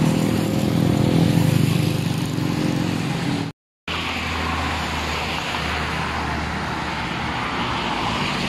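Steady roar of heavy trucks, including a tanker and a box freezer truck, passing nearby on a highway, a constant engine and tire rumble with a brief dropout partway through.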